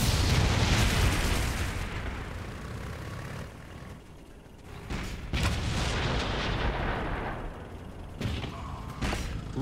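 Battlefield combat from the video game Blitzkrieg 3: a dense mix of loud artillery booms and explosions with scattered gunfire, several sharp blasts rising out of a constant rumbling din.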